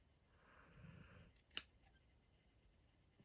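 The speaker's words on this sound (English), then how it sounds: "Scissors under, snip." Scissors slide under a hair weft and snip the fabric with a single sharp, close cut after a brief soft rustle, then quiet.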